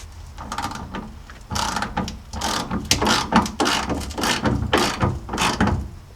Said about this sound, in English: So I'm just going to snug this up a little bit, nothing crazy tight.